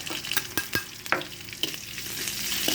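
Crushed garlic and ginger fry in a hot pan for a Kerala moru curry, a close, steady sizzle broken by several sharp clicks of a spoon stirring against the pan, with no talking.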